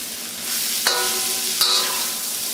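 Steady, bright sizzling of food frying in hot oil in a wok over medium heat, with a couple of brief scraping stirs cutting through the constant crackle.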